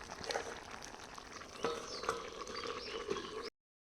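Mutton curry stirred in a pot gives a soft, close sizzle with scraping strokes and occasional clacks of the spoon, ending abruptly in silence.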